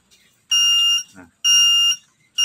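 A stopwatch countdown timer's buzzer goes off at the end of its countdown: loud, shrill electronic beeps in evenly spaced bursts of about half a second, heard close up with no talk.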